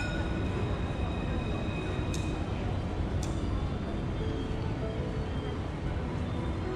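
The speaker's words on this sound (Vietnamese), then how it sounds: "mọi người thấy xe lửa không? Xe lửa quá trời đấy không?" A train passes in France with a steady rumbling roll of wheels on rails and a couple of brief high squeals, heard from close by the whole time.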